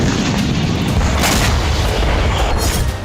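Continuous loud, rumbling blast noise from a rocket strike on a Hamas command centre in Khan Younis, Gaza, with dense low booming and crackling debris filling the whole stretch without pause.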